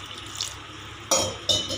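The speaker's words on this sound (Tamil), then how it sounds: "கொஞ்சம் தண்ணி ஊற்றணும்." Water poured into a pot of ground-masala mutton curry on the stove, two short splashing pours landing near and fairly loud with brief gaps between them.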